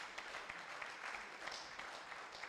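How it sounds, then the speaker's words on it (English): Scattered, fairly faint applause from an audience at a Ghanaian natural gas event, clapping for KNUST, light and uneven over a low room murmur. "I thought you would clap for KNUST."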